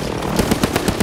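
Rapid automatic gunfire in Call of Duty: about half a dozen loud, evenly spaced shots in quick succession over a steady background of game noise.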